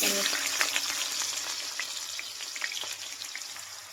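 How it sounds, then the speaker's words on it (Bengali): Onions frying in a hot wok, a steady close crackling sizzle with brief sharp pops and spatters over about four seconds, no voices. "কড়াইটা গরম হয়ে গেছে, আমি পেঁয়াজগুলো দিয়ে দেবো"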